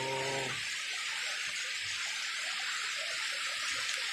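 Floodwater rushes in a steady, loud hiss of broadband noise, constant and unbroken throughout after a brief tonal sound at the very start.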